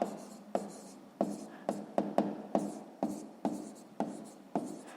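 Pen writing out a math answer on paper, a series of about nine sharp scratchy strokes in an even rhythm, close and clear with no talking.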